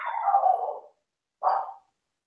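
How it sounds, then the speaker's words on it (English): A dog letting out two barks, the first drawn out and tapering, the second shorter after a brief pause, close and clear with silence between. "My dog's going crazy."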